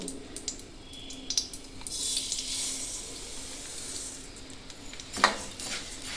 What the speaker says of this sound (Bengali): তিলগুলোকে ভালো করে আমি এভাবে ভেজে নেব।